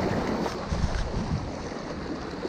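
Strong sea waves roll in after a storm on a fishing outing, a dense, steady roar mixed with gusty wind buffeting the microphone, loud and continuous.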